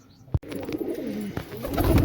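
Pigeons in a home pigeon house coo in soft, low, repeated calls, with a brief sharp knock early on and a rising rumble of fluttering toward the end.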